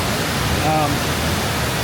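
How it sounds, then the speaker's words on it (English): Mae Sa Waterfall in Chiang Mai roars as a dense, close, unbroken rush of falling water, with a brief voice faintly heard over it. "It's been pretty wonderful here at Mae Sa Waterfall."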